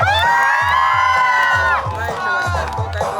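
At a school's annual sports day, a crowd of students cheers and shouts during a boys' tug of war. The shouting is loud and continuous, with rhythmic chanting pulses throughout.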